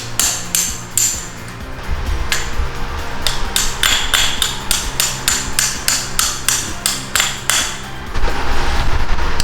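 Sharp metallic hammer strikes on metal car parts ring out in quick repeated bursts, some rapid and steady, others spaced apart, loud and close with no talking.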